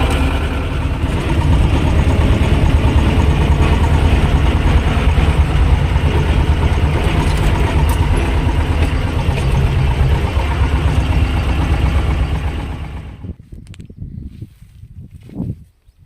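A T-25 and a YuMZ-6 tractor idle together, a loud, steady diesel rumble close by that holds for most of the stretch before dropping away to near quiet with a few faint knocks.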